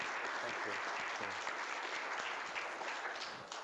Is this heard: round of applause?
yes